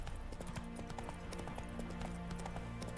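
Roach the horse galloping in The Witcher 3, a rapid continuous patter of hoofbeats over steady game ambience, moderately close, with no clear speech.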